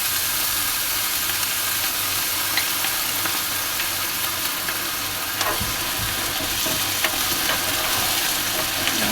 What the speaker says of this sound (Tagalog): At ilalagay ko na guys yung potato kasi matagal-tagal ko maluto.